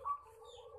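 A zebra dove (perkutut) gives a soft, faint coo, a short accented note followed by a sustained low tone against quiet background.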